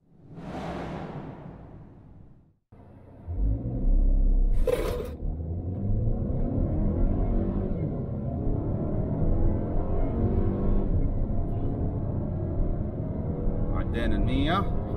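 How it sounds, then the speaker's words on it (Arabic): A 2023 Geely Monjaro petrol SUV accelerates with a rising, steady engine and road rumble that holds for several seconds, heard from inside the cabin, with a brief whoosh near the start and light talk over it. "دحين أوريكم تسارع فرملة السيارة ونرجع نكمل لكم الفيديو."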